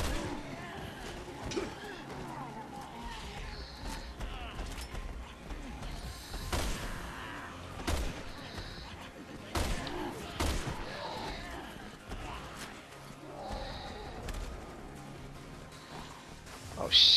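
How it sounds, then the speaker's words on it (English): Scattered sharp sniper rifle shots ring out in the Resident Evil 6 Mercenaries mode, loud isolated cracks spaced every few seconds amid game noise, with a player talking between them. "I love the sniper rifle in this game."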